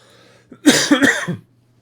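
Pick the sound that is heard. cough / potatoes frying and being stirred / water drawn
cough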